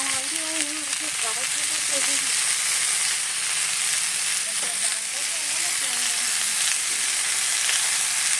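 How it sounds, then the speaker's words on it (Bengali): Potato and eggplant chunks fry in a pan and are stirred, giving a steady, close sizzle throughout with a few faint tonal sounds in the background. "আলু আর বেগুনটা দিয়ে দিলাম। একটু নেড়ে চেড়ে নিয়েছি"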